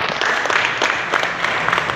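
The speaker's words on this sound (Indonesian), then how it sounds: "Tepuk tangan dulu buat Jansen." Children applauding together for a classmate in a school or Sunday-school gathering, a dense, steady patter of many small hands clapping close by with no voices over it.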